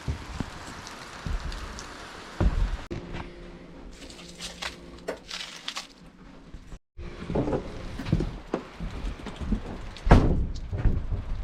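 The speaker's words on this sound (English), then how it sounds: "Rain has certainly picked up, if you can hear that." Heavy rain falls outside a mountain cabin during solo camping, a steady broadband patter on the surface with a few knocks and a brief dropout midway, no talking.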